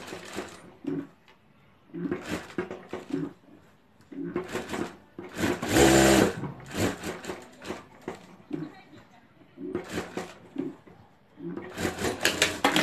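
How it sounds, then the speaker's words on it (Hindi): A sewing machine stitching the strap of a homemade fabric sling bag runs in repeated short bursts of rapid mechanical whirring, with brief pauses between the runs. "और अब यहाँ हम साइड में एक सिलाई कर देंगे।"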